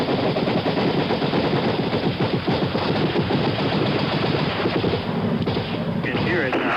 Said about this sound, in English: The shooting has begun. North Vietnamese fired at the CT. You can hear the Americans firing.